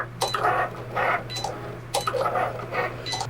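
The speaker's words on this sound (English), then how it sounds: "Now we'll add the mat to our Cricut and cut our design." A Cricut machine cuts an infusible ink transfer sheet on its mat, with rhythmic mechanical whirring and clicking in repeated short bursts over a constant low motor hum.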